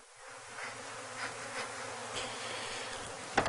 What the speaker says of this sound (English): You get in front of the bees in their flight path, and it can irritate them.